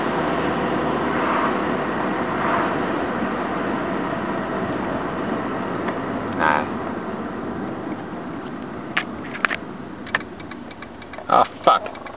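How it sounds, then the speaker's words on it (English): Honda Accord engine idling or running rough, heard as a low steady drone beneath faint background noise, with a few short clicks and knocks near the end. "The engine still sounds like the pistons are going to fall out,"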